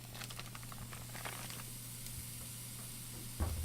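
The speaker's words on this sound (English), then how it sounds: "first thing I'm going to do is add my ground beef to a preheated pan" Ground beef browns in a preheated pan with a quiet, continuous sizzle and hiss, broken by a few soft ticks and pops, heard up close with no voices.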